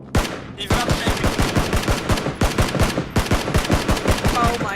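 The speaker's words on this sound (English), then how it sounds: "Oh god, I'm getting shot from behind." Rapid bursts of automatic gunfire in a video game shooter, loud and close, with dense repeated shots and brief pauses between volleys.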